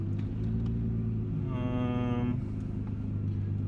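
A Nissan GT-R R35 engine runs under a 30% throttle pull in manual mode, giving a steady low droning hum with a brief rising whine in the middle, moderately quiet and heard alone.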